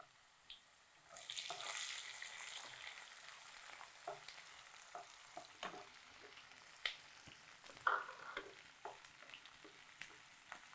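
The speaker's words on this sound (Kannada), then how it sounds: "ಈರುಳ್ಳಿ ಬೆಳ್ಳುಳ್ಳಿ ಹಾಕಿ ಚೆನ್ನಾಗಿ ಫ್ರೈ ಮಾಡ್ತಾ ಇದ್ದಾರೆ." Onion and garlic frying in a pan for a home-style Kannada eatery dish, a steady close sizzle with intermittent clinks and scrapes of a stirring spoon, no voices over it.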